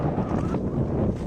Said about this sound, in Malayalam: നല്ല കാറ്റുണ്ട്, ചൂടുണ്ടെങ്കിലും പക്ഷെ നല്ല കാറ്റടിക്കുന്നുണ്ട്.